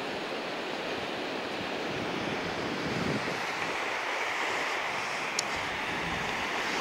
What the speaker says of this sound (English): Just the endless beach.